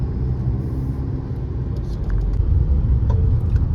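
A diesel Tata Safari with a manual gearbox drives through heavy, slow traffic on National Highway 19, giving a steady low engine and road rumble that swells slightly louder partway through, with faint surrounding traffic noise.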